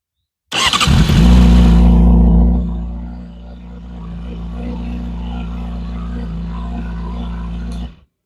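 A cold motorcycle engine cranks and fires up with a loud burst of revs, then settles into a steady, rumbling idle close by.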